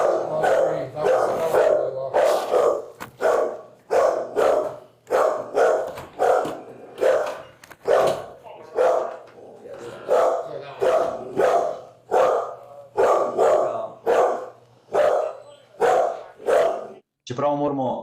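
A dog barks repeatedly and loudly close by, a long series of steady, evenly spaced woofs with brief pauses, continuing throughout.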